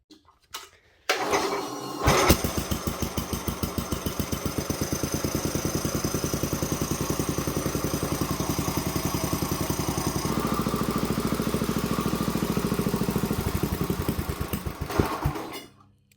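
Small engine of a 1968 Sears Super 12 garden tractor, freshly fitted with a replacement cylinder head, cranking and catching, then running steadily with a fast, even chugging putter close by before cutting off near the end.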